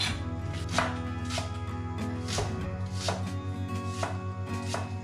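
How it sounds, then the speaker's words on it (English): An onion being chopped with a knife on a board for stuffed lamb loin, a steady run of crisp, close, evenly spaced blade thuds for several seconds, with no speech. "Chop one onion. One onion is enough."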